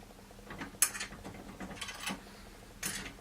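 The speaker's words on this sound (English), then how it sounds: "insert the screws, gently screw them in a little bit into the hole" A screwdriver turns screws into the holes of a newly fitted door handle, giving faint, uneven ratcheting clicks and scrapes in a few short bursts against a quiet room, with no talking.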